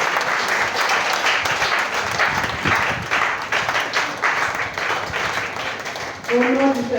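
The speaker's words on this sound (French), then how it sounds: "Acclame pour ta vie." A church congregation at a Sunday service breaks into sustained, dense applause, clapping loudly and continuously with a few voices rising near the end.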